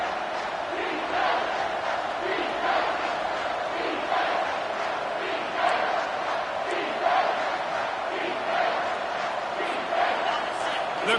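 Football stadium crowd roaring steadily in support of the defense during a red-zone stand, a dense continuous wall of cheering with rhythmic swells, heard alone at a distance.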